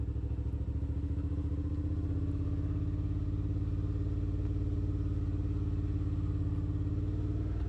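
A 2019 Suzuki V-Strom 650 on stock tires rides off-road in low gear, its engine chugging steadily and loud for the whole stretch, with faint clatter and thumps from the rough ground.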